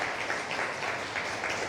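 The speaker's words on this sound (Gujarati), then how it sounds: "એમના માટે ખરેખર જોરદાર તાળીઓ થઈ જાય." Audience applause at a Gujarati poetry festival event, a steady dense wash of many hands clapping together at moderate distance, continuous throughout without any speech.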